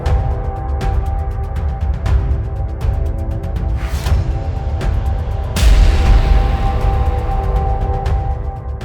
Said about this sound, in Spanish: Los disparos venían de dos lados.